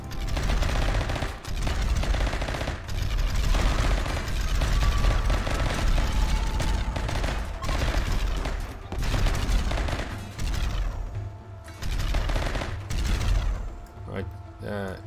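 Rapid automatic autocannon turret fire in the RimWorld video game, a dense sustained barrage of overlapping shots and booms that continues nearly unbroken for the whole stretch, loud and close.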